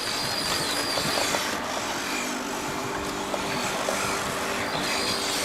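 A lawn mower engine runs steadily at a constant drone, fairly loud and close, with no speech over it, on a residential street in Germany.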